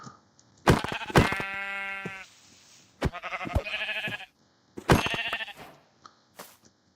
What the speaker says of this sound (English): Sheep. I heard a sheep. It's a brown sheep.